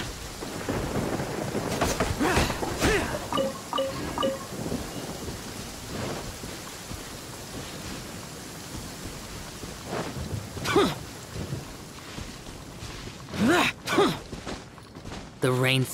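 Thunderstorm ambience in the game Genshin Impact, with steady rain hiss and rolling thunder. Game voices speak over it in bursts at the start and again near the end.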